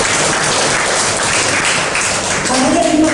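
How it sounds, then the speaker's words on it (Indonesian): Church congregation applauding for God during a sermon on marriage, a dense, continuous wash of hand clapping from a large crowd, loud and close, with a voice speaking under it near the end. "Boleh kasih tepuk tangan buat Tuhan kita?"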